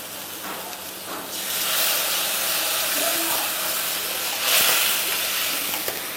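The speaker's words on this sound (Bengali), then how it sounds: "এবার একটু জল দিয়ে দেবো ওর মধ্যে" Water poured into hot masala gravy in a pan for a prawn curry, setting off a loud, broad hiss that swells and stays steady for several seconds before easing slightly.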